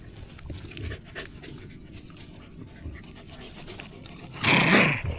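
A dog pants in quick, rhythmic breaths close to the microphone, followed by a sudden louder snort or huff near the end.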